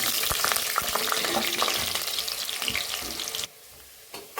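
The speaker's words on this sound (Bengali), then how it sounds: "তেলটা গরম হয়ে গেছে, এবার আলুটা দিয়ে ভেজে নেব" Potatoes frying in hot oil in a home kitchen, cooked as part of a country-chicken curry: a dense, steady sizzle runs close and loud, then cuts off sharply near the end with only a brief crackle returning.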